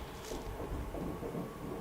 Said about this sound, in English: that's the train, if you can hear that